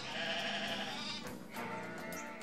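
Sheep bleating in an animated series about Pasteur and anthrax vaccination, a sustained wavering bleat at moderate distance with a second overlapping cry, no talk.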